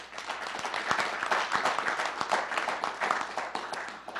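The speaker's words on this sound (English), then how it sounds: "give Salisbury a round of applause, please" Audience applause at a mayor's 2013 State of the City address in Salisbury, a steady moderately distant round of clapping from a sizable crowd, sharp individual claps standing out.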